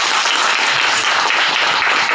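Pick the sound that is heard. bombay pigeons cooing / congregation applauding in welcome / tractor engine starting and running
congregation applauding in welcome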